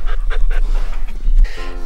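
A chow chow puppy on its first day home pants rapidly and steadily, close up, with quick breathy rhythmic puffs and a brief vocal squeak near the end.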